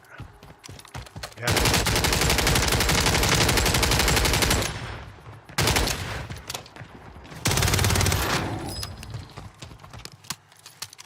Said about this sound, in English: I should really shoot these guns